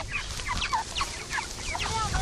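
Chickens on a chicken farm clucking steadily in repeated short calls, close and fairly loud over a rough outdoor background.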